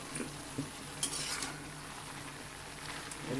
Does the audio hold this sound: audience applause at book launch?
no